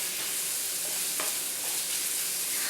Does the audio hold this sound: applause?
no